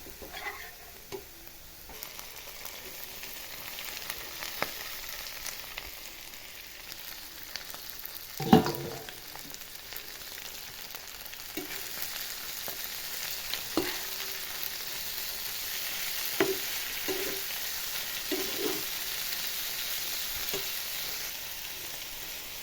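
Darkina fish fries with browned onions in a pan, a steady close sizzle with occasional stirring clatter and a sharp scrape partway through, no voices.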